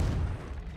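A Confringo fire spell blast in Hogwarts Legacy gives a single short, heavy boom that rumbles low and fades quickly.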